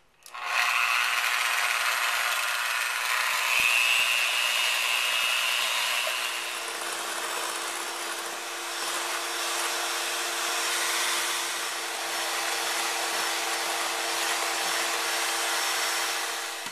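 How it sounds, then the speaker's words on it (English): Small electric hand mixer beating five egg whites until stiff, a loud steady whirring drone running the whole time, its pitch settling lower partway through as the whites thicken, with no talking. "beat our 5 egg whites until they're stiff. So I'm going to just do that with my little hand mixer"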